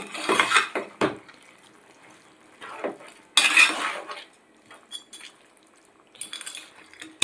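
Garlic paste stirred into an eggplant curry in a pan, with scattered metallic scrapes and clinks of a utensil against the pan between quiet gaps.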